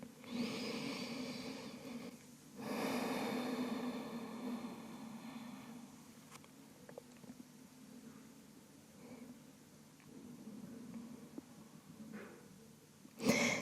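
Slow, quiet breaths during a gentle yoga back mobility session, with soft airy inhales and exhales rising and fading over several long cycles at close range, with no talking.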